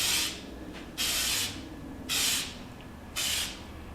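Four short bursts of hissing spray, each lasting under half a second, separated by brief pauses, close and fairly quiet.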